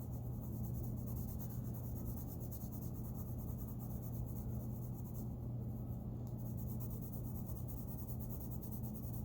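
A No. 2 pencil shades back and forth across paper for a value scale, giving a steady, close, continuous scratchy rub with no pauses and no voices.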